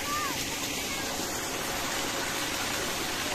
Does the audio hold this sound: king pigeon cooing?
no